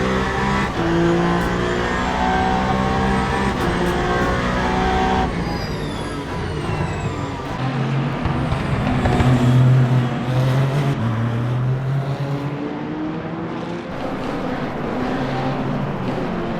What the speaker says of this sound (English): Coming through again into turn 8 as we are passing GT3s.